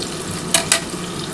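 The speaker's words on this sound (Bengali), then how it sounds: "একটু লাল করে ভাজতে হবে বন্ধুরা" Egg chops (dimer chop) frying in hot oil in a kitchen, a continuous close sizzle with two sharp crackling bursts near the middle.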